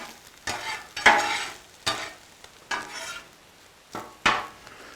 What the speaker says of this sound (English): Let's give them a toss now.